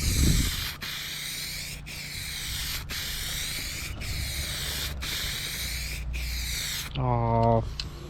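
Light coat of spray paint going onto a BMW E90 panel, a series of hissing bursts of roughly a second each separated by short gaps, fairly close, followed by a brief voice at the end.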